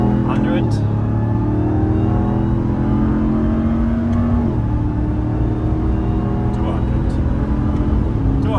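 A 707 hp Dodge Ram TRX pickup accelerates hard on a German autobahn, its engine roaring loud and continuous as it climbs through several gear shifts, with road and wind noise and people talking over it.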